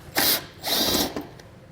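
Bursts of a power driver spinning a T25 Torx bit to back out fasteners behind the rear of a 2022 Audi SQ5 during a hidden trailer hitch install: two sustained whirring runs, then a shorter one, close and loud.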